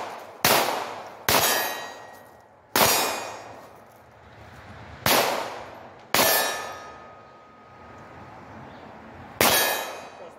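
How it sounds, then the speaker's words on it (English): Six sharp shots from a Ruger Mark IV pistol fired while moving, spaced irregularly, each a loud crack followed by a ringing metallic decay. "So we're going to do a little bit of moving and shooting."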